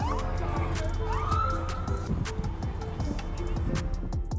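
A police car siren wails over a busy mix of racing cars' engine roar and clattering, loud and continuous throughout.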